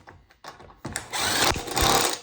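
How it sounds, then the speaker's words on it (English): A power tool, plausibly an impact gun with a chrome socket, removing an axle bolt on a 1994 Honda during axle boot replacement; after a few faint knocks, a loud sustained whirring burst runs close by, briefly dips, then resumes. "Chrome socket on impact gun."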